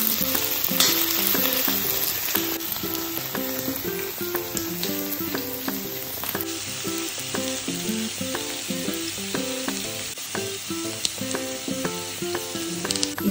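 Garlic paste sizzles and fries in a pan, a steady bright crackle that runs throughout while something is stirred, with music playing underneath and no speech.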